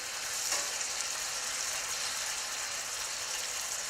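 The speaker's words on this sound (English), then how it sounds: "So I'm going to put these in this large skillet with all this butter." Shrimp sizzle in butter in a large skillet, giving a steady, bright hiss that stays even and close throughout with no voice.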